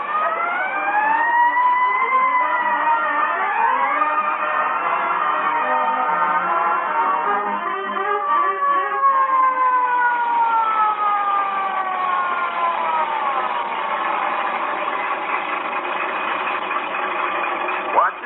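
A fire truck siren wails continuously, rising and falling in long sweeps, loud and close throughout.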